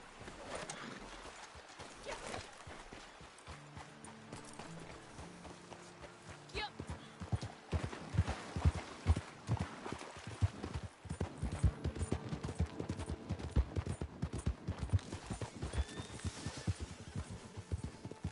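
Rhythmic clip-clop of horse hooves at a steady run in the video game Red Dead Redemption 2, close and fairly loud, with people talking over it throughout.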